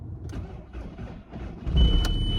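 An old car engine cranks with uneven low chugging pulses, then catches and rumbles louder at the end, with a thin whine and a brief high squeal.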